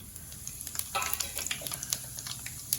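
Cumin, mustard and fenugreek seeds sizzling in hot oil for a fish pickle tempering, a close, continuous crackle with frequent sharp pops and spatters.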